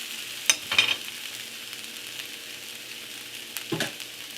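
Mongolian beef and peppers frying in a pan give a soft continuous sizzle, broken by a few brief scraping stirs near the start and end.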